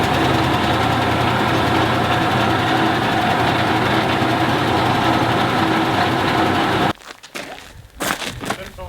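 A Land Rover 101 engine, unused for 15 years, runs loud and steady at idle, its dense rumble filling the first seven seconds before cutting off abruptly, followed by scattered nearby handling noises.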